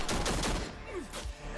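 Rapid bursts of gunfire from a first-person shooter video game, loud and dense in the opening half second, then thinning into scattered shots and game effects, with no talking.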